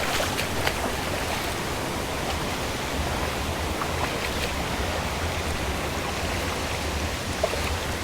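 Lilydale Falls in Tasmania, swollen by heavy rain, pours as an even, broad rush of water, steady and enveloping from start to finish with no voices.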